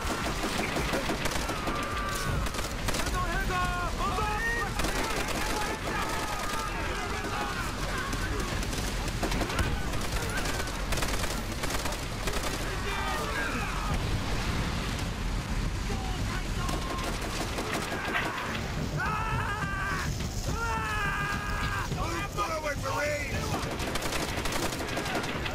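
Dense gunfire fills a Call of Duty: World at War battle, with rapid bursts and shots layered over continuous combat noise. A voice talks over the shooting throughout.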